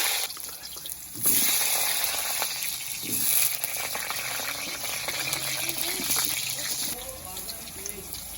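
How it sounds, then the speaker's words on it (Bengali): Potatoes frying in a pan for a biryani, a steady broad sizzle with watery hissing that swells after the first second and holds close and even, with no voices. "আলুগুলো ভেজে নেব।"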